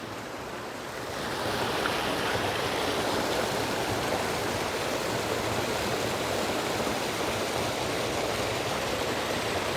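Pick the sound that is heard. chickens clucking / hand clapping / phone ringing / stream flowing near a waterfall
stream flowing near a waterfall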